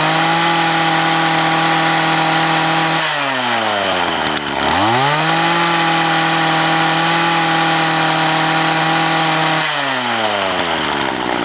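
Weed Eater GHT225 hedge trimmer's small two-stroke engine held at full throttle, a loud steady high-pitched buzz that dips briefly as the revs drop and climb back, then sags again near the end, with no talk.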